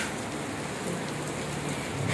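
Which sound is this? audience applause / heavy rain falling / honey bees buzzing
heavy rain falling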